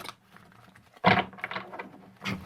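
Modern Witch Tarot cards are shuffled in a few quick papery riffling bursts, a short soft patter followed by a louder flurry and another brief burst at the end, close by and with no talking.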